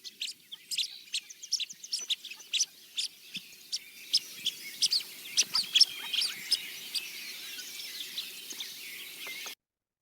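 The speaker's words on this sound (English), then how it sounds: "they make this sort of quiet pipping sound." Soft, quiet pipping calls from a dabbling duck in a Newfoundland and Labrador marsh, a steady series of short high peeps repeated many times at moderate distance, with no voices.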